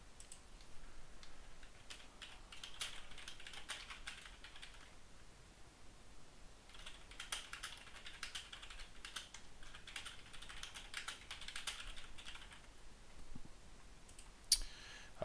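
Fast, light clicking of a computer keyboard being typed on, steady and close, with brief pauses, during an online Hellish Quart tournament match.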